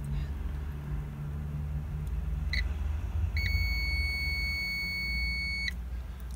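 Continuous electronic beep from a multimeter continuity tester with probes on two twisted wires during camper van wiring in a Mercedes Sprinter, a steady tone of about two seconds over low background hum.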